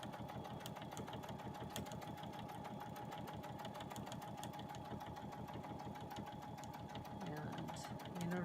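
A sewing machine runs steadily, stitching fabric strips for a table runner, its fast even needle chatter continuing close and unbroken for the whole stretch, with a faint voice now and then underneath.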